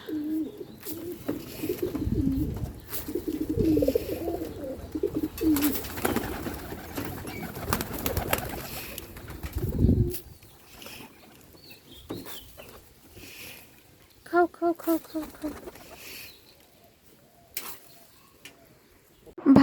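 Pigeons coo close by while feeding, in soft, repeated low calls, broken by rustling, flapping and scattered knocks, with quieter stretches between bursts.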